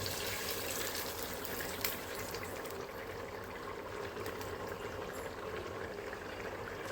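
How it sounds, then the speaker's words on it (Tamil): Ghee pouring into a pot of chicken biryani on the stove, a steady soft liquid stream with faint bubbling, continuous and close with no speech. "நெய்யை ஊற்றிடலாம்"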